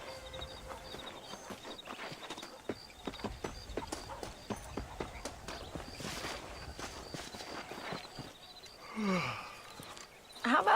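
Horse hooves clip-clop steadily in Red Dead Redemption, a regular walking rhythm of close, crisp hoofbeats running throughout, with a louder rustle and thump near the end.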